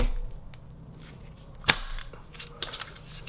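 A CZ Scorpion fitted with an aftermarket HB Industries trigger gives a single sharp mechanical snap as the trigger breaks, followed by quieter clicks and handling noise as the reset is checked.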